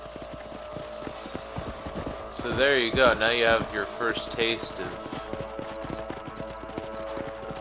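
Horse hooves clip-clop steadily in the Western video game Red Dead Redemption, with a nearby burst of galloping and snorting mid-way, under music and someone talking.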